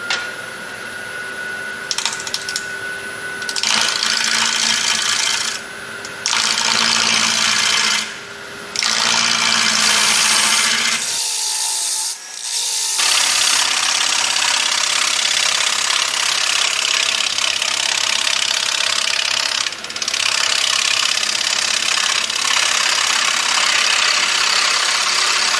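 A wood lathe spins a black gum natural-edge bowl blank at high speed, a loud continuous mechanical whir with steady hum, briefly dropping out and cutting to near silence for a moment midway before resuming.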